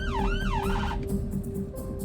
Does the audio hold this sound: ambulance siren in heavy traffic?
yes